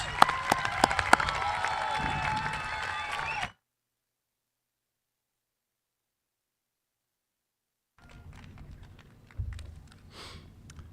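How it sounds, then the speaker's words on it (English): Audience applause at a 2025 graduation ceremony at the NTS school, a dense burst of clapping for about three and a half seconds, then silence, then a quieter stretch of scattered crowd noise. "Give yourself a round of applause."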